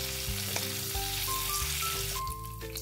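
Flour-coated tuna pieces fry in hot oil with a steady, dense sizzle close by, the crackle running continuously with no voices.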